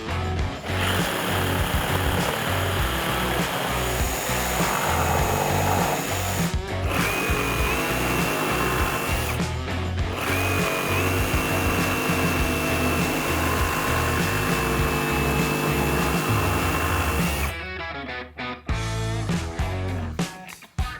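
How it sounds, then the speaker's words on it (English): A jigsaw fitted with Diablo double-cut blades saws through wood boards, a loud continuous buzzing whine that runs steadily for about seventeen seconds, then stops, leaving a few brief rattles and clicks. "It's because they cut on the downstroke and on the upstroke of the jigsaw"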